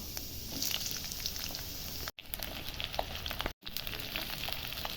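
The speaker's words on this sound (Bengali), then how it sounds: "এবার এই দেখুন আদা রসুনটা সুন্দর লাল লাল করে ভাজা হয়ে গেছে" Ginger and garlic frying in a pan, browned red before bell peppers are added, producing a continuous crackling sizzle with dense pops, broken by two brief silences.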